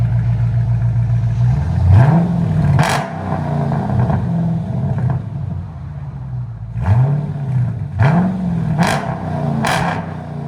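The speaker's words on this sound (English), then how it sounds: "Look at that idle. I like it. Here's the idle sound." Dodge Charger Scat Pack with a 6.4L HEMI V8 and aftermarket exhaust idling, a deep loping rumble with a few throttle blips rising and falling, close and loud with no talk.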